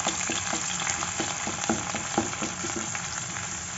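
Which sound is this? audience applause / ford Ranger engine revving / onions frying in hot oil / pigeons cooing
onions frying in hot oil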